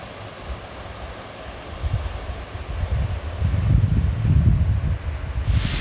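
Waves roll onto the beach at Indiana Dunes National Park, a soft steady wash that builds into louder surges toward the end, mixed with some wind noise and no talk.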